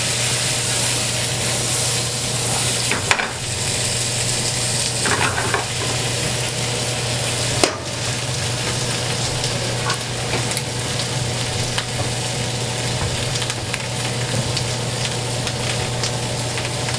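Onions caramelize in a pan, giving a steady close crackling sizzle with a low hum underneath and a few clinks of stirring, and no one speaks.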